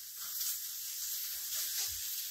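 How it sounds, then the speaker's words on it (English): Peppers sizzle in a pan with other taco filling for stuffed portobello mushrooms, giving a steady, fairly quiet frying hiss that goes on alone without talk. "you can hear the sizzle"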